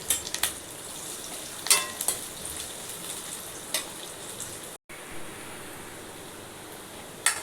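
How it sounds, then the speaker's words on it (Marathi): Onion and curry leaves crackling in hot oil in a pan, a steady soft sizzle with sharp pops and spatters breaking out every second or so; no one speaks. "तेल तापले, त्यामध्ये आता कांदा आणि कढीपत्ता तो लाल करून घेऊया"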